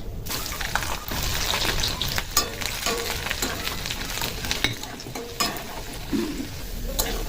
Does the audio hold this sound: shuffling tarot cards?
no